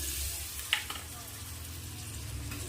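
Cluster beans and potato sautéing in a pan with garam masala, a soft steady sizzle with one brief clack of a spoon against the pan and no talk.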